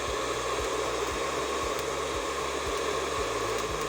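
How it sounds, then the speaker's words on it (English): A hair dryer blows steadily on a grill fire being readied for cooking chicken, a loud continuous hiss and whoosh of air with low rumbling pulses underneath, close and unbroken throughout. "I am using a hair dryer to speed up the time and set the fire ready for the meal."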